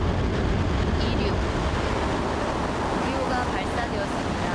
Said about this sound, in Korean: 누리호가 무사히 이륙해서 하늘로 힘차게 날아올랐습니다